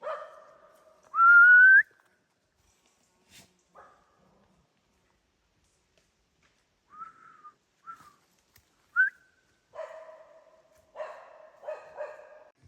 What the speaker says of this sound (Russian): что Перри лает